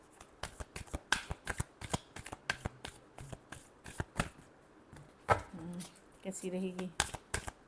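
Tarot cards are shuffled in quick, crisp riffling bursts, close and fairly loud, with a brief spoken phrase partway through and a short flurry of card flicks near the end.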